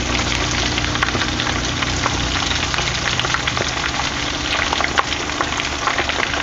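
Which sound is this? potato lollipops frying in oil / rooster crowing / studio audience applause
potato lollipops frying in oil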